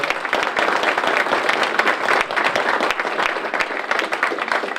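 Steady, dense applause from the audience at a city council and mayoral primary debate, clapping for the candidates at an even level throughout.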